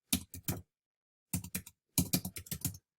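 Typing on a computer keyboard comes in three close, clicky bursts separated by short pauses, with the last burst the longest and densest.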